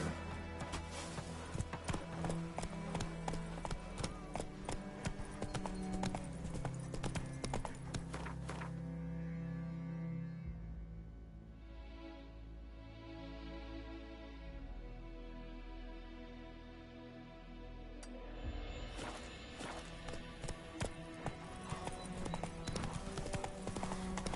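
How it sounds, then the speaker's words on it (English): Hoofbeats of a horse in The Witcher 3 play as a rhythmic clip-clop that is steady and fairly loud, fade out for a stretch in the middle, then resume over in-game music. "Run, Roach."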